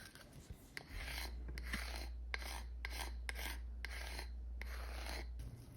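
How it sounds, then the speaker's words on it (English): Card scrapers drag across epoxy-filled red oak grain in about a dozen quick, raspy strokes, evenly paced and fairly faint, with a low hum underneath and no talking. "it's really hard to hear the cards scraping the grain"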